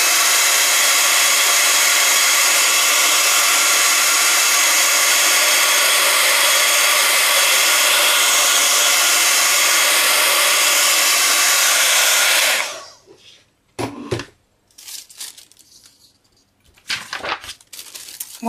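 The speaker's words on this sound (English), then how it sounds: "I just like to give that a quick blast with the heat gun just to heat set it." A heat gun blows loudly and steadily for about twelve seconds while heat-setting tissue tape, then cuts off, leaving a few short rustling and handling noises nearby.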